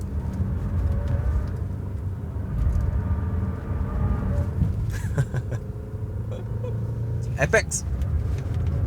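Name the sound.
Volvo XC60 PHEV SUV accelerating uphill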